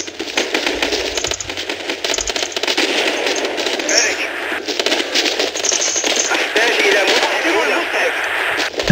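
Rapid, sustained automatic weapon fire rattles through a Battlefield 2 firefight, dense and loud throughout with bursts overlapping; a voice speaks over parts of the shooting.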